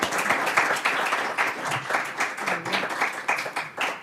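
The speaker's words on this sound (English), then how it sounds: "can we give our panelists a round of applause?" Audience applause for the panelists at a community conversation held at the Iowa City Public Library, steady dense clapping from a sizable crowd filling the room for about four seconds with no voices over it.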